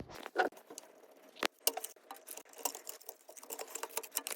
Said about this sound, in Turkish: Burada bir kurucu karton var. Bunu kesip alacağım.